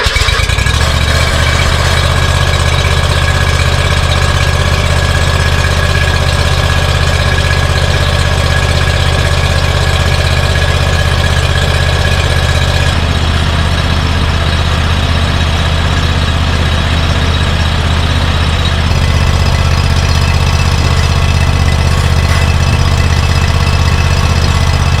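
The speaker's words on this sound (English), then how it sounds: "the last step is to get on the mower, start it up with it off the ground" A riding lawn mower engine runs loud and close with a steady droning idle, raised off the ground and driven forward and reverse to purge air from the hydraulics; the tone shifts slightly partway through, with no voices.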